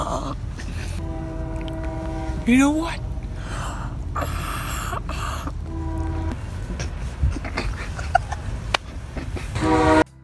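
A loud train horn sounds in long blasts at an outdoor bicycle ride event at night, with rumbling rail noise underneath and people talking and shouting nearby.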